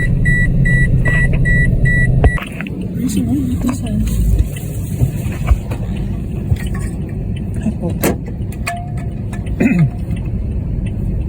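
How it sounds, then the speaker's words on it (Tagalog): Road traffic in Las Piñas: a steady car engine rumble with reversing-style beeps at the start, followed by passing vehicles, occasional clanks and short horn-like tones close by. "Traffic."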